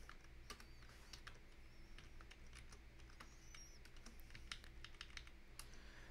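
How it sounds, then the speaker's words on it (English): Rapid, irregular keyboard clicks rattle along steadily over a low background hum, quiet and close, with no voices. "Hopefully the keyboard clicks aren't too loud."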